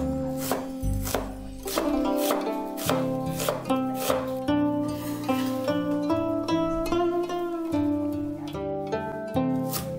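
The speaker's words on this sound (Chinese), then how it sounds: "并把洋葱切成丝" A kitchen knife slices an onion into thin strips on a cutting board, a steady run of quick, crisp chops with no talking.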